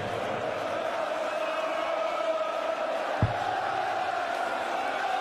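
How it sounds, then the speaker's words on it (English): Darts crowd at the Odyssey Arena in Belfast during a Premier League match, a steady loud roar of cheering voices filling the hall with one brief thump partway through. "the Belfast crowd making a huge noise here in the Odyssey Arena"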